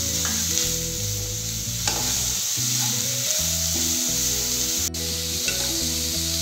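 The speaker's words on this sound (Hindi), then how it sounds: "सबको अच्छी तरह से भून लेंगे।" Grated carrot and other filling ingredients for stuffed suji balls roast in a pan, a steady soft sizzle with stirring under continuous background music, with no talking.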